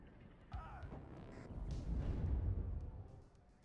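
Tank and artillery fire rolls across a 4v4 WARNO multiplayer battle on the Twin Cities map, distant booms building into a dense, low rumbling barrage that swells midway and then eases off.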